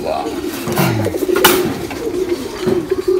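A Jharna shatting pigeon coos close by with low rolling calls among other pigeons at a pigeon farm, and people talk over the calls.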